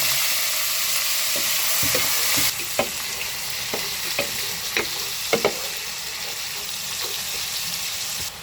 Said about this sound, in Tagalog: Brown na po yung ating bawang. Lagay po natin ang chicken.